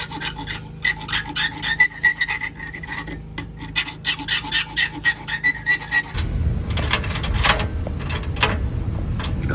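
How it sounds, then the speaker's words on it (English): Bolts clamped in a vice are cut down to length in a workshop, a close, steady series of rhythmic rasping strokes that grow rougher and louder partway through. "we are just cutting down our bolts so that they are"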